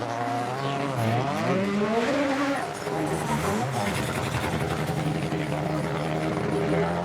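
A rally car on a demo run through an Okinawa corner, its engine roaring loud and continuous with pitch sweeping up and down through gear changes, while people talk over it.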